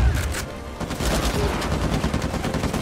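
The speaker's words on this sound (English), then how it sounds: "I had to get a grenade in there." Rapid bursts of gunfire and blasts crackle in a firefight in the Uncharted 4 video game, a dense, continuous volley of shots with a heavy explosion mixed in.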